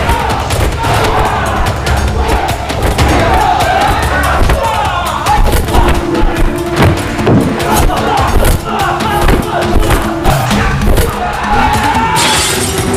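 A gangster brawl in a Hong Kong gambling den from the 2014 film Runaway, with crashes, shattering, thuds and crowd shouting under a steady dense din of fight noise throughout.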